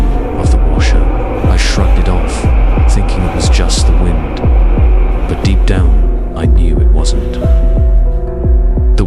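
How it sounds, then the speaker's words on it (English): A washing machine hums steadily as part of a spooky sound effect, with a deep rhythmic throbbing pulse that runs loud and unbroken throughout, and a faint tonal drone rising near the end. "heard only the hum of the washer"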